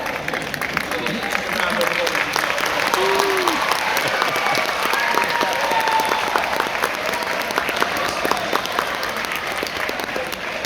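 A large audience applauds steadily and cheers at a political speaking event in London, with dense clapping filling the whole stretch at a loud, even level.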